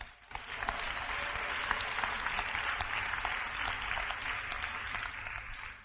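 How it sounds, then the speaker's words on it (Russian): Church congregation applauding during a sermon, a continuous, even round of clapping from a large crowd heard at moderate distance, sustained for several seconds with no voices over it. "Дай аплодисменты Иисусу."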